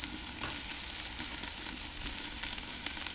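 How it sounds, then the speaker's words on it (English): Pork ribs sear on a hot Ozpig wood-fired stove, giving off a steady bright sizzle with scattered small crackles and spits at close range. "what we're doing is just sealing the ribs and getting them nice and crispy on the outside"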